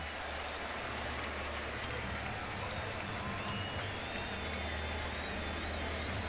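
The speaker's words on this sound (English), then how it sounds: "Crowd making noise here." Crowd noise at a Cubs at Cardinals baseball game in a stadium: a continuous broad roar of many spectators, steady and moderately loud throughout, with no distinct claps or cheers standing out.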